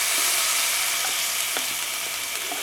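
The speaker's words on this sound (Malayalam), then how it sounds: "ഇപ്പൊ തൽക്കാലം കുറച്ചിട്ട് വിനീഗർ ഞാൻ ഒഴിച്ചു കൊടുക്കാൻ പോവാണ്." Vinegar poured into hot, sizzling spices in a pan while making a cabbage pickle, giving a steady broadband sizzle and hiss throughout with a few brief clinks, close and fairly loud, with no talking.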